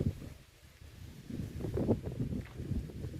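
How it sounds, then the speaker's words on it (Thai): Strong wind gusts in a valley by buildings and small trees, a rough low rumble buffeting the microphone and swelling louder toward the end, with rustling and no talk. "ลมแบบปลิวแล้วขนาดต้นเล็กๆ ก็ยังปลิวนะคะ"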